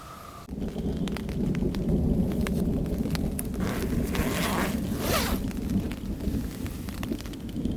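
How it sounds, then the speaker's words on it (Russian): Rain patters steadily while a low roll of thunder rumbles through during an Arctic kayak trip, with occasional sharp crackles and drips close by. "Опять сверкают молнии, гремит гром."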